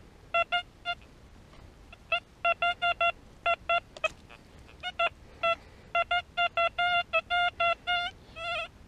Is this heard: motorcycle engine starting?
no